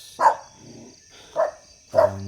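Three sharp single barks from a dog, close and loud, spaced about a second apart against a quiet background.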